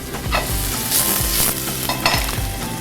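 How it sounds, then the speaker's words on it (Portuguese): Chopped half onion and two minced garlic cloves sizzle in a hot pan for risotto, a steady close frying hiss broken by a few stirring scrapes, with no voices. "A gente picou a nossa cebola, meia cebola picadinha, a gente vai pegar e jogar junto."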